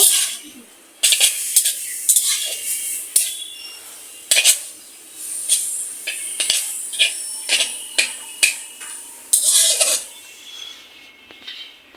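Greens for a bitter gourd leaf bhorta being stirred in a little hot oil in a pan, giving repeated crisp scraping strokes with a light sizzle, bright and fairly close, in an irregular rhythm.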